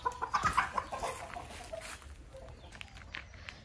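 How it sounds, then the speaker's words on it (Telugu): Chickens clucking on a farm, several quick close clucks and squawks at the start that fade into quieter scattered calls and faint background bird noise. "చాలా కోళ్ళు ఉన్నాయి."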